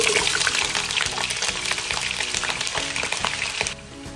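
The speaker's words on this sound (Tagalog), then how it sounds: "i-fry muna natin itong dalawang malaking patatas" Two large sliced potatoes fry in hot oil with a steady, dense sizzle and crackle, loud and continuous, easing slightly near the end.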